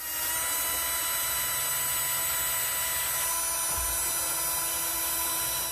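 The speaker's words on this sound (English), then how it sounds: "what we're going to have to do is drill a hole right there" A power drill bores a hole for speaker screws inside a Jeep, giving a loud, continuous high-pitched whine with a steady tone that runs the whole time and has no pauses.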